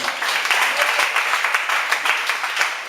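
Congregation applauding and cheering at a church seminar session in Yopougon, a dense, steady wash of many hands clapping throughout, loud and continuous with no talk over it.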